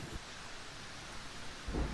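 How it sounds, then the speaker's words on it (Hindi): Heavy rain pours in a Hindi cartoon storm, a steady loud hiss throughout, with a deep low thunder rumble swelling near the end; no voices. "बाहर बहुत तेज बारिश हो रही है।"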